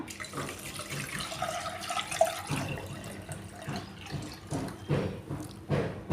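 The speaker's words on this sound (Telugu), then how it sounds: "వాటర్ వేస్తున్నాను" Water runs and splashes into a cooking pot of coriander rasam for several seconds, a steady gurgling stream with a few louder bursts toward the end, no voices.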